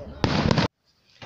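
A city day fireworks salute in Olenegorsk booms as one loud, dense burst lasting about half a second. Near silence follows, then a faint rise at the end.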